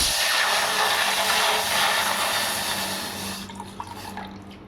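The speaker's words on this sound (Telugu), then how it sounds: "కొన్ని నీళ్ళు వేసుకుందాము" A steady rush of water pouring into a pot of heating milk for about three seconds, then stopping, leaving a few faint drips and clinks.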